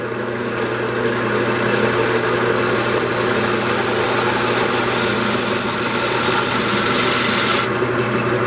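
A woodturning lathe tool cuts a green poplar bowl, producing a loud, continuous rough scraping rasp over the steady hum of the spinning lathe, close and unbroken throughout.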